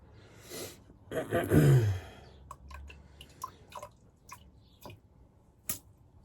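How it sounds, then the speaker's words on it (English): Water flicked and splashed from a shaving brush, with wet drips and soft splatters, then a few sharp, scattered taps and drops in a quiet room. "Just throwing some of the water out of the brush"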